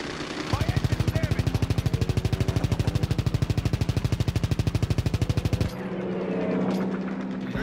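Sustained rapid automatic gunfire in the Call of Duty WWII game, a loud dense burst of rhythmic shots lasting several seconds, then cutting off to a lower rumbling battlefield ambience.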